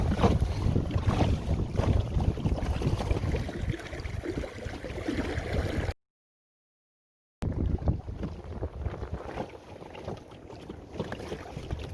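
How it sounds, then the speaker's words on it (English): Water sloshes and wind buffets a small sailboat approaching Ocracoke Inlet heading toward the ocean, a continuous rushing, splashing roar broken by a brief silent gap. "this is kind of exciting to be in such a small boat, approaching an inlet going out to the ocean"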